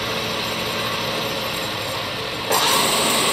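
A Comet 2 HP 9 x 42 inch vertical milling machine runs steadily with its main motor on low speed and low gear, giving an even mechanical whir and rattle that grows slightly louder and brighter near the end.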